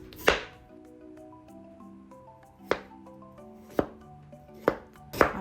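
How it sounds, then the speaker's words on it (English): A knife cuts chayote into thin slices of 2 to 3 mm on a board, five sharp chops spaced a second or so apart, each a crisp close thud ringing briefly over a quiet background. "Then cut it into 2 to 3 mm slices."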